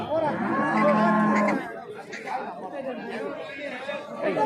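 A calf gives a drawn-out moo close by at the start at the Chintamani cattle market, followed by people talking in the background.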